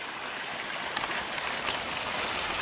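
A mountain creek beside a campsite in the Washington Cascades rushes in a steady, broad wash of flowing water, close by and uninterrupted, with no voices.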